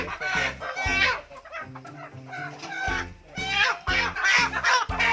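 Backyard laying hens clucking close by in repeated bursts, with one or two louder calls standing out and people talking in between.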